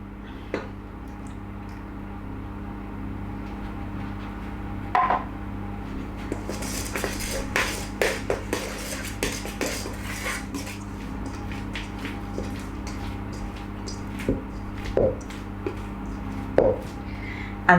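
Dough being mixed in a bowl with a butter knife, light irregular clicks and taps of metal against the bowl with soft squishy stirring, close and quiet over a steady low hum.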